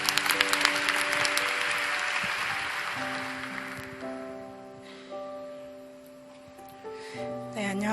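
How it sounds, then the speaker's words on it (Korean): Applause from a church youth worship congregation, a dense burst of clapping for about three seconds that thins out as soft sustained keyboard tones take over. "박수로 맞이하겠습니다."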